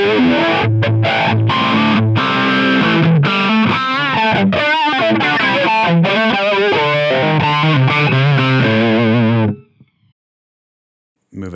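An electric guitar runs through a Line 6 Helix flanger with high regeneration placed before the distortion. Loud, heavily distorted playing carries a metallic, jet-like sweep, with chords and short stabs, then cuts to silence near the end.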